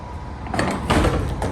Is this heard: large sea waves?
no